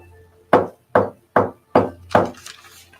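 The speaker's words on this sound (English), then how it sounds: "you hear a knock at the front door" Five firm knocks strike a front door in an even rhythm, loud and close with short gaps between them and nothing else heard.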